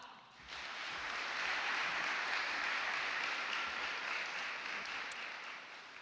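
Audience applause fills a high school National Honor Society induction and hooding ceremony, a dense, steady wash of many hands clapping that swells in quickly, holds for several seconds and then eases off slightly.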